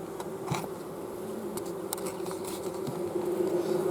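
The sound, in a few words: honeybees buzzing in a hive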